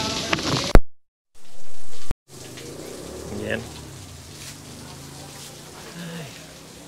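Steady rain falling outdoors at a roadside beef market in Tagaytay, a soft continuous patter under people talking, with a brief gap partway through.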